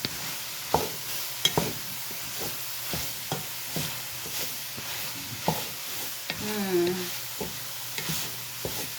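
Chili ingredients are stirred in a pot, with repeated scraping and knocking strokes of a spoon over a low sizzle, and a faint voice murmurs briefly partway through.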